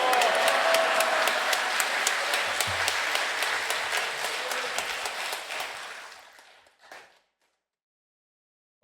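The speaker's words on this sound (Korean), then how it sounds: "박수로 환영해 주시기 바랍니다" A church congregation claps to welcome the pastor to the pulpit at a morning worship service, a loud sustained round of applause that tapers off and stops abruptly, leaving silence.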